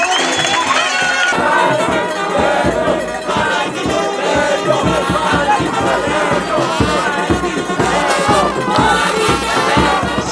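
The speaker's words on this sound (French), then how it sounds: "a été suivi des applaudissements, cris de joie et pas de danse de la foule" Crowd at a political rally in Lualaba cheers and shouts with joy, a loud, continuous dense roar of voices filling the whole stretch.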